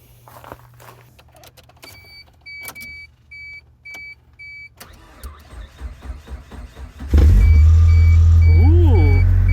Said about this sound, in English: Did start the vehicle. Now we got it started.